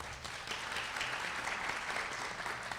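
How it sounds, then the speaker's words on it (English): Applause at a domestic-violence awareness event, a soft, steady wash of clapping heard from some distance, continuous and fairly faint. "A big round of applause for Lieutenant Julie Pleasant."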